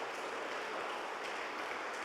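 A church congregation applauds in a steady, dense wash of clapping that is fairly faint and even, with no voice over it.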